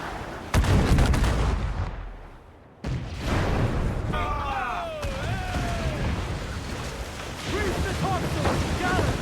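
Ship cannons firing in Assassin's Creed IV: Black Flag, heavy booming blasts over a constant rumble of battle, with shouted voices in the game mixed throughout.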